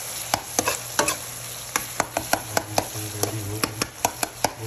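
Pumpkin sabzi stirred in a pan over a low flame, with a spoon scraping and tapping in quick irregular clicks over a soft background hiss, heard up close with no talk.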